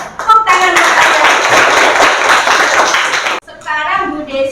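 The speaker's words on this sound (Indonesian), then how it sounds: "Tepuk tangan buat kalian." Schoolchildren in a classroom burst into brisk, dense clapping that fills about three seconds, then cuts off abruptly as a voice and chatter follow.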